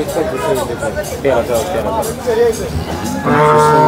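Cattle lowing and mooing close by, several moos in succession amid a busy cow market background in Sangola, Maharashtra, with people talking nearby.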